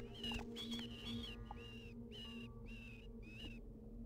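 Repeated high squeaks in Vampire: The Masquerade – Bloodlines, faint and rhythmic, about seven short calls over a low hum.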